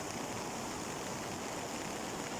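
Floodwater from a swollen river in Pozzurobio, Pangasinan surges along in a steady, broadband rushing roar, faint and unbroken with no voices.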